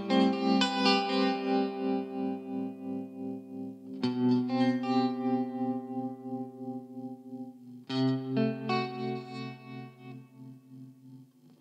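Slower tremolo from an Orange Tremlord guitar amplifier, with sustained guitar chords swelling and fading in a steady, easily heard wavering pulse, three strummed phrases, close and alone.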